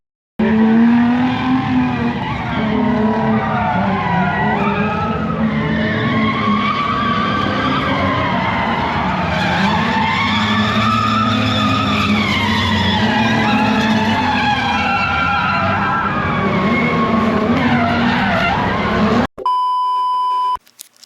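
A Corvette C5 drifting at a drift event, with loud, continuous tire squeal and skidding over a roaring engine for nearly twenty seconds, cut off abruptly and followed by a brief electronic beep.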